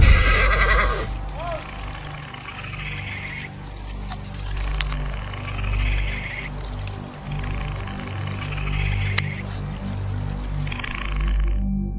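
A horse carrying a rider whinnies sharply at the start while reacting to possible danger, then a steady low rumble of movement and handling noise continues throughout, fairly close.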